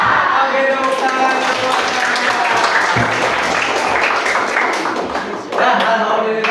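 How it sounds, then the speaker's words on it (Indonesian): A group claps hands in a dense, continuous patter with voices mixed in, briefly dropping off before resuming, during a teacher training session in Indonesia. "Oke, tepuk tangan."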